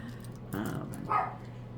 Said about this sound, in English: If the dogs bark, I'm sorry.